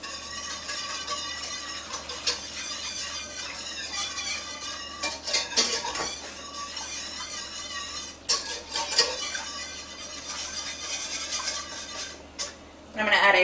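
A spoon scrapes and clinks around a bowl, stirring pasta shell filling seasoned with white pepper and nutmeg, with irregular close metallic taps and scrapes and no talk.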